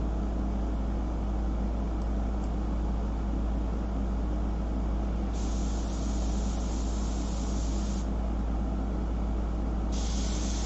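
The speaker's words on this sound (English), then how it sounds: "since I have it in my airbrush, maybe I could just add a little light to some areas" An airbrush sprays paint onto shellac-covered paper with a soft, steady, continuous hiss. The texture shifts slightly as the spray starts and stops, and no one speaks.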